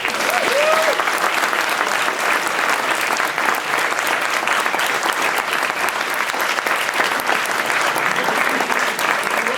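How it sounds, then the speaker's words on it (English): A large university crowd at the Marching Illini Macy's parade announcement bursts into sustained applause, a thick, even wash of clapping that holds steady throughout. "So let's give yourselves a round of applause."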